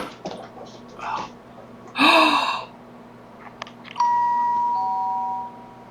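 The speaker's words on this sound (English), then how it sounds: "ringing the doorbell at 3 in the morning" A two-tone doorbell chime rings out clearly at 3 a.m., then holds and fades, preceded by a sharp breathy burst and faint background noise.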